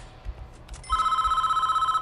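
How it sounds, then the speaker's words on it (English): A telephone rings for a call from the warden in the video game Prison Architect, a loud rapid trilling bell that starts abruptly after some low background thumps and sustains steadily to the end. "we got another phone call from the warden"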